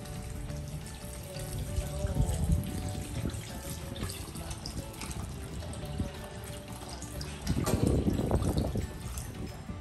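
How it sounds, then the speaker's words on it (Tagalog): Water runs and splashes steadily from a tap, with a louder gush of pouring into a cooking pot near the end; no talking. "Eto, maglalagay na tayo ulit ng tubig."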